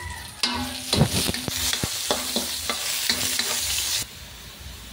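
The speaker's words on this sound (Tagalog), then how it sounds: "inuna ko muna paggisa yung laman" Pork meat is sautéed in a pan for menudo: a steady close sizzle of frying broken by repeated clattering scrapes and stirs of a utensil against the pan, with the sizzle stopping near the end.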